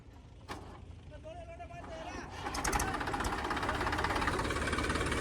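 A tractor engine runs in a village, a dense mechanical chug that swells and grows louder, with voices talking over it.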